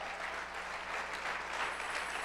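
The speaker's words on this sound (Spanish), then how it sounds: "Dale una ovación de palmas al Señor." A church congregation applauds together, a steady, dense wash of clapping hands that fills the room without pause for a couple of seconds.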